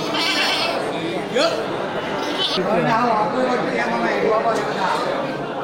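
Several goats bleat, close and at a distance, over steady chatter and someone talking, amid a busy crowd at a livestock market.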